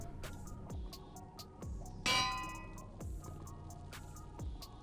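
A bell struck in the Minecraft game rings out once, clear and bright, over a soft backdrop of repeated dripping, plinking game sounds.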